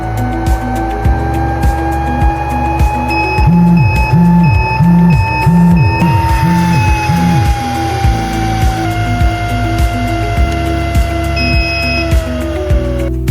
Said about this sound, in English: After the filter jammed, the alarm system, audible, and vibration alerts.